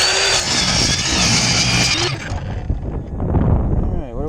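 Loud power saw grinding through a large glued-up block of maple and walnut, a dense harsh roar for about two seconds that then drops into a lower, uneven rumble as the cut slows and burns.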